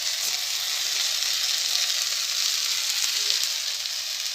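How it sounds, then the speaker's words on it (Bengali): Dal vada lentil fritters poured into a pan of frying methi greens and potatoes, giving a steady, even sizzle of hot oil that holds close and unbroken throughout, with no voices. "দেখো ডালের বড়াটা আমি এর মধ্যে ঢেলে দিয়েছি"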